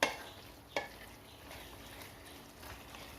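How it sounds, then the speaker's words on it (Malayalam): Beef roast with masala is stirred in a pan, giving a couple of sharp scraping clinks over a soft, steady sizzle with faint further scrapes. "മസാലകളും എല്ലാം കൂടെ ചേർത്ത് നന്നായിട്ടൊന്ന് മിക്സാക്കി എടുക്കാം"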